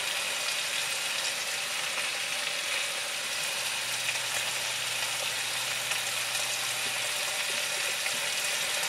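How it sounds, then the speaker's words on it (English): Sausage sizzling in a pan while cooking red beans and rice, a steady, even frying hiss that carries on unbroken with no talking. "Now that I have the sausage cooking"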